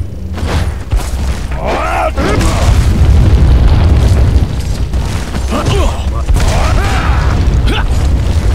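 Grenade explosion in the video game Resident Evil 4, a loud, deep boom that rolls into a sustained rumbling roar lasting several seconds, with people talking over it.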